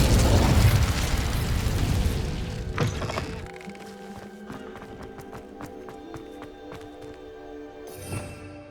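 A fiery Incendio spell blast in Hogwarts Legacy opens with a loud, dense burst of roaring flame. It quickly drops away to quieter game ambience, with scattered clicks and a brief swell near the end.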